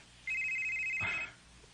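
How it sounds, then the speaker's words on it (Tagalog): A phone rings with an incoming call from an unknown number, a steady electronic ringtone tone lasting about a second, fairly close and loud against a quiet room, with no talking. "Kinso mining nanawag? Unknown number man?"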